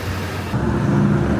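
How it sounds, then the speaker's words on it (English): Heavy trucks and general traffic rumble along a city street in Fredericksburg, Texas during the morning commute, a steady close low drone that swells a little louder halfway through. "Lots of trucks and noise this morning as people are making their way to work."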